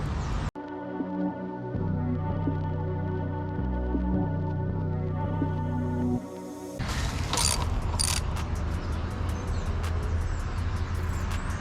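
Mechanical clicking and ratcheting while tightening a fastener during installation of lift hood struts on a 2020 Honda Accord, a steady mechanical hum first, then a burst of sharp close clicks and rattles.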